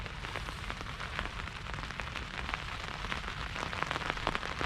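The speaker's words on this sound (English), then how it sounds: "Rain's on the igloo." Steady rain patters on a fishing shelter on the River Humber at night, a dense, even drumming of drops close overhead that continues without a break.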